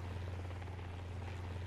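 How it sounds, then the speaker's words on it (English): Steady helicopter rotor drone from a helicopter spawned in a video game, a continuous low throbbing hum with a broad rushing wash, heard alone at moderate level. "Spawn helicopter."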